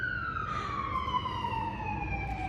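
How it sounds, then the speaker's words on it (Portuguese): An ambulance or police siren on a Boston city street: a single descending wail sweeping steadily downward over about two seconds, moderately distant, over a constant low traffic rumble. "Quando não é um barulho de ambulância, é um barulho de carro de polícia."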